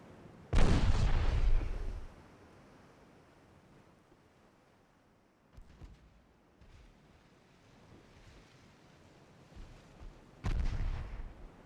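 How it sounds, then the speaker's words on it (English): Naval guns fire in the video game Ultimate Admiral: Dreadnoughts, with two heavy booming blasts several seconds apart, each followed by a rumbling decay over soft ocean wind and surf. "Now my guns are finding their mark."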